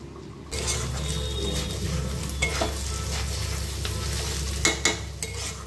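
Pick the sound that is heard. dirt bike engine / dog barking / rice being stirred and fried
rice being stirred and fried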